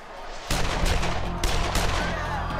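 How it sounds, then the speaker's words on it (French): Gunshots at the Vatican during the attack on the Pope crack out after a short quiet moment and keep going in a dense, rattling volley, with a couple of louder blasts. "lorsque de terribles coups de feu retentissent"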